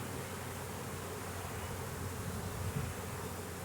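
Honeybees drone in a densely packed hive opened for swarm control, a steady, even hum filling the whole stretch at moderate level with no voices.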